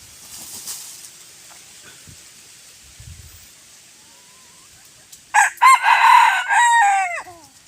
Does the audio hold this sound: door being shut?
no